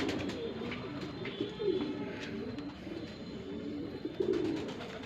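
Shahjahanpuri breed pigeons, a breeding pair in Shahjahanpur, cooing in low repeated throaty bursts at a moderate distance through a steady murmur of ambient noise.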